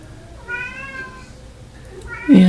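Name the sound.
cat meowing outside a door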